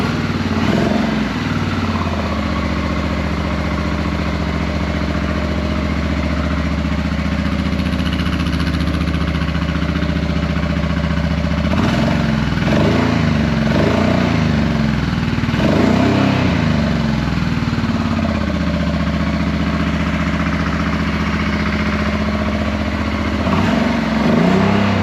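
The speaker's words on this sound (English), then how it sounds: "Listen to the bike, it is crazy." A Honda Transalp motorcycle, a barn find, runs steadily and loudly up close for the whole stretch, its engine note holding even with slight surges.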